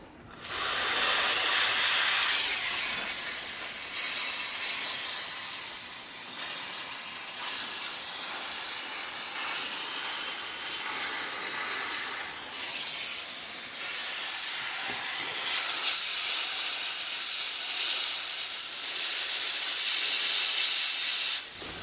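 A steam cleaner hisses steadily and loudly for the whole stretch while cleaning the interior of a Frozen (matte) Black BMW M5, a continuous close spray with slight surges and no talking.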